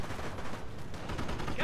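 Sustained battlefield gunfire in Company of Heroes, overlapping rifle and machine-gun bursts forming a thick, unbroken wall of shots at close range.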